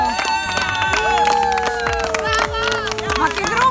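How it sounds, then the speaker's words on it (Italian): A small group claps and cheers on a seventh-floor rooftop terrace in New York, the clapping mixed with lively voices, whoops and laughter, all close and loud. "addirittura un applauso"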